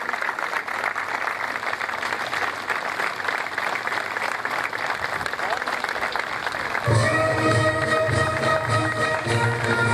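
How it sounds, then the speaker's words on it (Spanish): Applause from the audience at a Malvinas War veterans and fallen commemoration ceremony in Moldes: steady crowd clapping throughout, swelling louder partway through, with a voice over it. "con el aplauso de todos"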